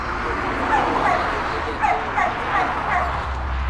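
Dogs at a K9 training facility bark and whimper with yips, close and fairly loud, while a person talks over them.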